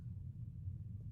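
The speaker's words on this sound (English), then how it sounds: "There's thunder rolling in Shreveport." Low, continuous thunder rumbles through a heavy storm over Shreveport, a steady deep roll lasting the whole moment with no breaks or voices.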